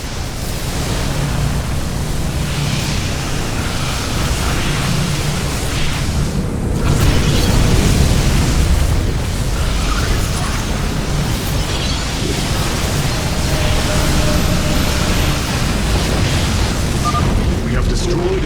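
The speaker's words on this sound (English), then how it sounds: "We have destroyed a Tal'Darim mothership." A Tal'Darim mothership blows up in StarCraft 2, a loud, sustained rumbling roar of explosion noise that swells briefly near the middle and carries on under game audio.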